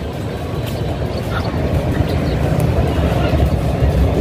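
A train runs along a rail line nearby as a steady, loud rumble with faint clatter, holding constant throughout without a clear pass-by peak; no talk is heard over it.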